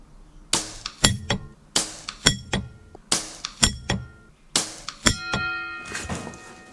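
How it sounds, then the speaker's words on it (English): Pellets from an HW77 air rifle strike a metal bell target, several sharp ringing clangs spaced about a second apart, each followed by a short metallic decay, with no talk. "now I'm gonna see if I can ring the bell"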